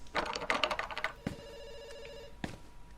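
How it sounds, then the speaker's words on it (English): A telephone in a PC video game rings in bursts, a warbling electronic trill followed by a pause and another short ring, clear and close with no talking. "It's ringing."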